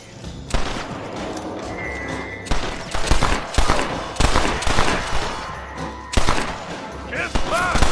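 Repeated loud gunshots crack out in bursts during a Western shootout in Red Dead Redemption, sharp and close, interspersed with brief pauses and character voices shouting between volleys.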